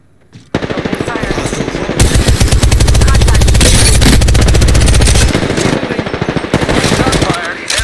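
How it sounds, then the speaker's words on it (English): Video game gunfire with sustained, loud automatic bursts, close and dense, punctuated by rapid shots over several seconds. "Shot fired, and they're hitting me."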